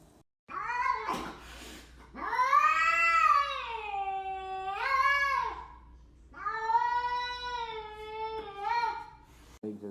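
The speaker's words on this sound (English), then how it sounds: "Kitten." A kitten gives a short cry, then long, drawn-out wailing meows and caterwauls in three rising and falling bursts, loud and close, with no talk.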